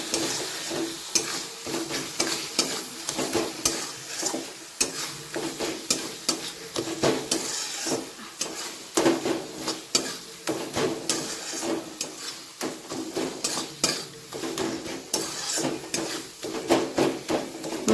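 Masala with Kashmiri chili powder frying in a pan for Bengali chicken curry, a steady close sizzle broken by repeated scraping and clacking of a spatula stirring, with no talk.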